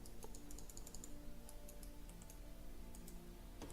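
Computer keyboard keys are pressed repeatedly while a video game sits frozen, quiet irregular clicks and taps scattered over a faint steady background hum, with no talking.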